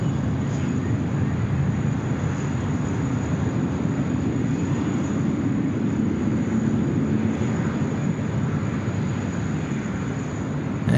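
An airliner taking off at Sydney Airport on a showery day, a broad continuous rumbling roar of jet engines, steady and fairly loud throughout, heard from a distance.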